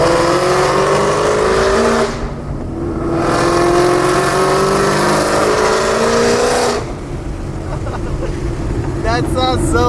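A Shelby GT500's exhaust is revved to about 3,500 rpm, rising and falling in two long, loud pulls with a deep, rumbling tone, and a brief quieter idle between them.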